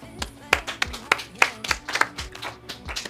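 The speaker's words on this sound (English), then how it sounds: "Let's all start clapping." A few people clap sparsely and unevenly at a trading programme presentation, with roughly a dozen separate sharp hand claps spread across a few seconds, fairly close and without any talk.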